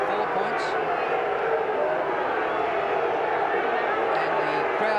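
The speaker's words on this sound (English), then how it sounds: "the crowd very vocal as the umpires go off at half-time" A football crowd at an AFL match between Carlton and Brisbane roars steadily at half-time, a broad continuous wash of noise with commentary voices over it.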